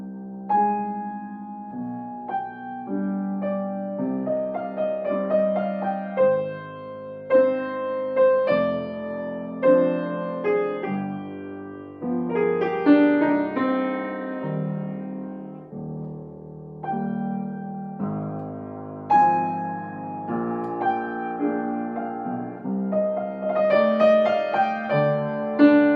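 Solo piano plays the opening phrase of a Chopin Nocturne slowly and clearly, with a singing melody over sustained chords, each note distinct, and no voices.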